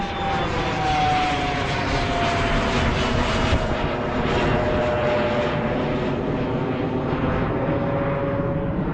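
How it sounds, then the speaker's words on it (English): A fixed-wing airplane takes off from Daytona International Airport beside a cemetery, its engine a loud, sustained roar with a falling whine that carries steadily throughout, nearby and alone without talk. "Just a plane taking off."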